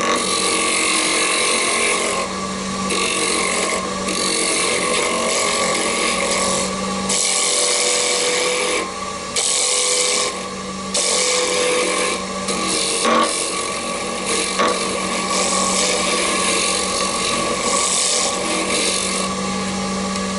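Wood lathe turning a chess pawn, a steady close scraping and rasping of tool on spinning wood with a constant motor hum, broken by short pauses and shifts in cut throughout, with no talk.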